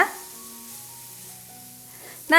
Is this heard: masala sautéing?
yes